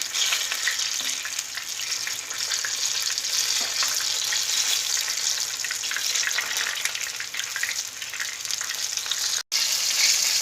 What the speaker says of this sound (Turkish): Çevire çevire kızartalım her tarafını.